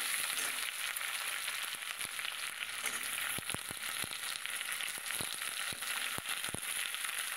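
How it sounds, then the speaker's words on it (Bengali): Mixed vegetables with radish fry in a pan, a constant hiss with sharp clicks of a spatula scraping and stirring now and then. "এক এক করে সবজি দেবো আর একটু একটু করে নেড়ে নেব।"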